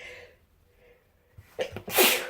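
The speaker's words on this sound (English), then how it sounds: "I'm going to sneeze" A single loud sneeze bursts out near the end after a quiet moment and a short sharp intake of breath.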